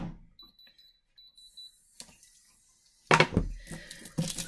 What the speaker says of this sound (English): Oh, now you beep, right?